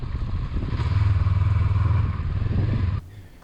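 A Royal Enfield Himalayan motorcycle on a quiet road ride, its engine thrumming loud and close with a steady pulsing rumble for about three seconds before dropping off abruptly near the end.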